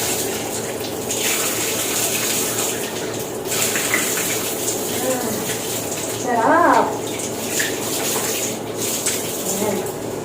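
A shower runs in a steady broadband rush of falling water for the whole stretch, with a short spoken exclamation partway through.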